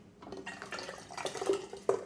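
Fruit kvass juice is poured through a canning funnel into a container, giving a soft, uneven trickling and splashing with a couple of light clinks, fairly faint and without talk.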